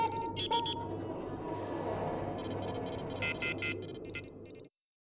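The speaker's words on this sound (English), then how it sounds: "Here's a short example of the finished soundscape for the cockpit." A spaceship cockpit soundscape from the video game Starfield: a low humming ambient bed is overlaid with bursts of high, rapid electronic beeps and chirps at the start and again later, then it cuts off abruptly.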